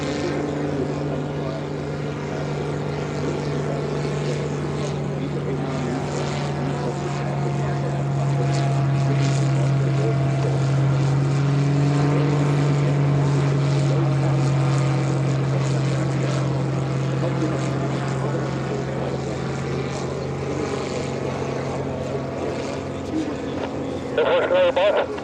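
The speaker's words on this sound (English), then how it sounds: "It's able to take off and land in a very short window of the takeoff." A Helio Courier propeller airplane performs a flying demonstration at the EAA AirVenture air show, its engine drone steady and loud throughout, with people talking over it.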